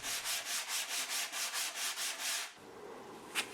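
Sandpaper rubs back and forth along the edge of a homemade Halloween gravestone in about eleven quick, even strokes, close and fairly loud, then stops, leaving quiet room noise and one faint scrape.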